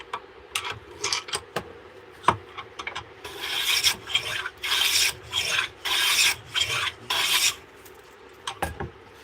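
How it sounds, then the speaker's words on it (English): Hand plane shaving wood in repeated rasping strokes, a burst of six or seven long even passes in the middle after a few scattered scrapes and knocks, close and fairly loud. "planing, flipping, planing, trying to keep them even."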